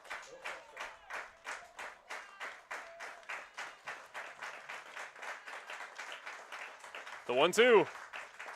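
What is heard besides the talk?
crowd clapping at a baseball game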